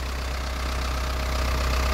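A Ford 6610 tractor engine idles nearby, a loud, even diesel rumble with a faint knocking pulse that holds steady throughout.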